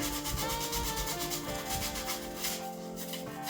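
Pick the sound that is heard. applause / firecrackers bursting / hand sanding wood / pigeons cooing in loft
hand sanding wood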